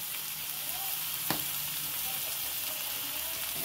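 Spices with turmeric, cumin, coriander and Kashmiri chili powder fry in oil with garlic paste for a dhaba-style mixed dal, giving a steady, quiet sizzle with a single soft clink of a spoon partway through.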